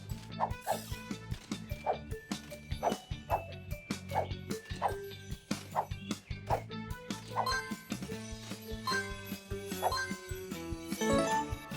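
Cartoon puppies in a PAW Patrol video game bark and yip repeatedly in a bouncy rhythm over jingly background music, fairly quiet overall.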